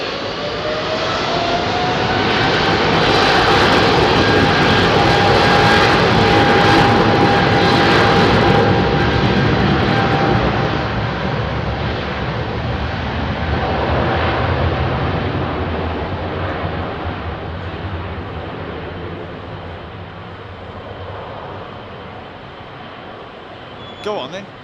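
An American Airlines Boeing 777-300 with GE engines departs Heathrow, a loud, close, rumbling jet roar with a high whine that swells over the first several seconds and then slowly fades as it climbs away, with talk over it.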